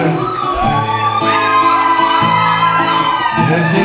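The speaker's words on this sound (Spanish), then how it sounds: "Let me get one grito." A crowd at a Tejano benefit concert in a bar answers with festive Mexican gritos, overlapping loud whoops and yells rising and falling over a few seconds.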